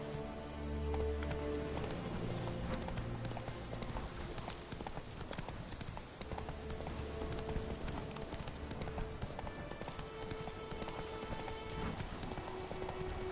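Hooves of a galloping horse in The Witcher 3 pound in a fast, continuous rhythm for the whole stretch, close and prominent, with tonal game music running underneath.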